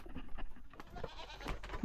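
Goats bleat in a village farmyard, a few short calls over a busy, fairly loud background of rustling and movement.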